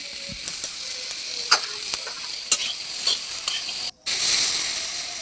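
A pan of brinjal and small fish curry hisses softly as a spatula stirs it, giving scattered scraping clicks over a low sizzle with a brief gap near the end.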